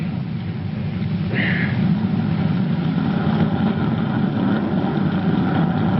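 Spaceship rockets firing in a radio drama: a steady, low rumbling roar that holds evenly from start to finish, with no voices over it.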